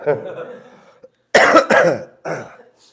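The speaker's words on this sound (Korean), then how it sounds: "제가 계속 기침이 나오는 컨셉을 잡고 와갖고요" Several harsh coughs come close together, followed by a brief throat clear, loud and close to the listener.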